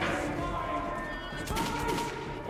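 Dense, continuous gunfire in the video game Metro Last Light Redux, rapid overlapping shots forming a steady roar, with voices mixed in.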